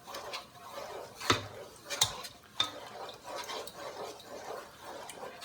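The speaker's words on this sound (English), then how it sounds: "Get that stirred in." A spoon stirring white table sugar into tomato sauce in a pot, with a few sharp clinks against the pot and soft scraping swirls, close and without talk.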